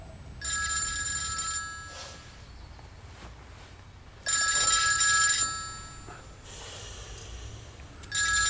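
A telephone rings in three separate bursts, each a bright electronic trill about a second long with pauses in between. The phone sounds close and loud over a quiet room.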